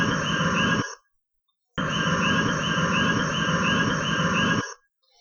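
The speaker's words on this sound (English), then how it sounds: "Sounds like a helicopter." Filtered, enhanced audio from UFO footage carries a helicopter-like hum: a loud, buzzing drone with a low throb that runs in two long stretches, broken by a sudden gap of near silence.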